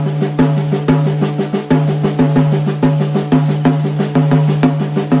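Close, loud drum kit playing a fill from the first two lines of Ted Reed's Syncopation book with hi-hat added, a busy even stream of strokes punctuated by regular heavier accents, with no voice over it.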